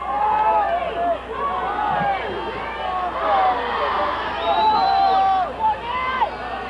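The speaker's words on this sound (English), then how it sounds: "Crowd very noisy here on the San Gabriel side." A noisy home crowd at a 1982 high school football game on the San Gabriel side roars continuously, a dense babble of many voices with rising shouts and whistles, loud and steady throughout.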